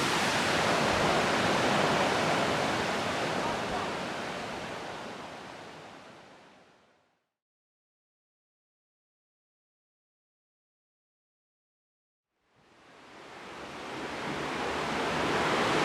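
Cheonjeyeon waterfall on Jeju, Korea, roars as a loud, steady broadband rush of falling water, cutting out to silence for several seconds midway before the thundering spray returns.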